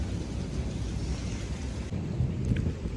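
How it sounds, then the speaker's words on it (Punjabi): Thunder rumbles through a heavy rainstorm in Canada, a continuous low roll under the steady hiss of falling rain, loud and unbroken with no voices. "ਮੀਂਹ ਪਾਉਣਾ, ਅਤੇ ਨਾਲੇ ਬਿਜਲੀ ਵੀ ਗੜਕ ਰਹੀ ਆ"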